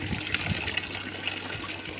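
Water from a cooler's pipeline sprays and showers in a steady, dense hiss and splash, close and continuous, with faint gurgles beneath.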